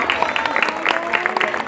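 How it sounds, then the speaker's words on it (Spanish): A crowd applauds a school group from class third A, the dense clapping loud and continuous for a brief moment with some voices mixed in. "Recibimos con un fuerte aplauso al grupo de tercero A,"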